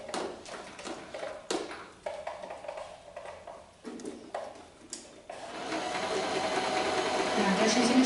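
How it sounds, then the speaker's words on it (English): A sewing machine runs a straight stitch in white thread along a quarter-inch seam, its motor whirring in bursts that start and stop, then settling into a steadier, louder run near the end. "I'm just going to go to the sewing machine now, and I'm going to stitch 1/4 inch seam."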